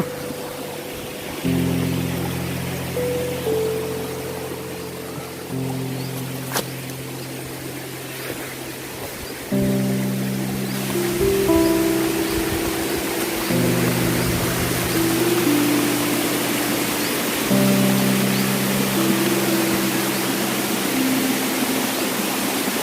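Fast-flowing water rushes along a stream on the Raikal trek near Warangal, a loud, even broadband roar that continues throughout beneath sustained tonal music.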